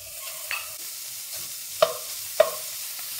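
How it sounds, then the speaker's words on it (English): Pork belly sears in a dry pan with no oil, giving a soft, low sizzle broken by a few sharp spatula scrapes and pops. "To the pan, we're gonna add our pork belly."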